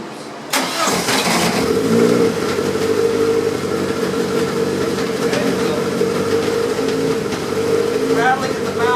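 A 1983 VW Rabbit GTI engine cranks and fires, then settles into a loud, rough idle with revs rising and falling, an aluminum exhaust pipe rattling behind it; the engine stays close and continuous throughout.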